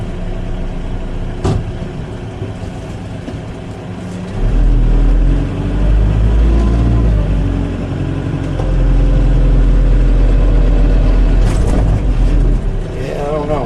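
A tractor pushes a box blade into the ground beneath a solid tree stump, its low diesel rumble swelling loudly after a quieter opening and holding steady, with someone talking over it.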